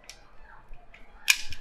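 A toy match gun, a Diwali kids' cracker loaded with a matchstick, gives one sharp, loud crack late in the moment, after a couple of faint clicks and light handling.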